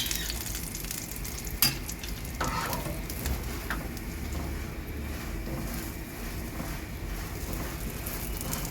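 Aloo paratha frying in oil on a flat pan, a steady close crackling sizzle that runs the whole way with a few sharper pops and scrapes near the start.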